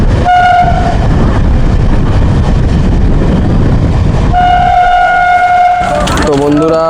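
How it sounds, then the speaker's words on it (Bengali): A Sealdah–Naihati local train pulls away from the platform with a loud, steady rumble, its horn sounding twice in long blasts, and a voice speaks briefly at the end. "বন্ধুরা, ছেড়ে দিয়েছে শিয়ালদা নৈহাটি লোকাল।"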